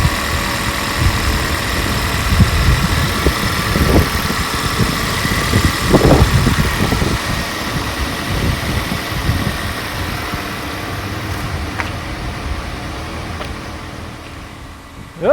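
A Toyota Corolla, burning oil and blowing smoke, idles steadily and close up, with a low rumbling drone and occasional slight bumps in tone, no voices over it.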